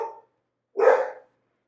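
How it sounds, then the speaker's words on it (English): A dog barks twice, a short bark at the start and a louder, fuller bark a moment later, close by and with silence between. "my dog's going to keep barking"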